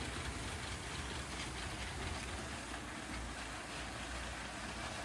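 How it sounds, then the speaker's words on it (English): LEGO trains running on a track: a faint, continuous rolling rumble with a soft hiss and light rhythmic clatter, steady throughout with no talk. "Let's switch things up a bit and run a few different trains"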